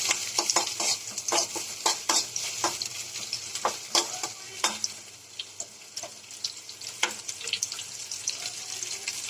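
Red chillies and onion are stir-fried in a pan for carrot chutney, with soft sizzling under repeated close scraping and stirring strokes, some watery splashing mixed in.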